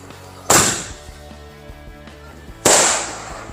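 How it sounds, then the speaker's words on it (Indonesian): Two sharp, loud blasts from a Happy Thunder ball-launcher firecracker, about two seconds apart, each cracking out and then ringing down into a brief echoing tail, with no talk over them. "selanjutnya kita nyalain mercon bola launcher Happy Thunder"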